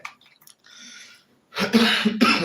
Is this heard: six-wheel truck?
no